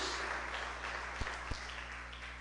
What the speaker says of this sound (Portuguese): Você pode aplaudir ao Senhor nesta noite por isso.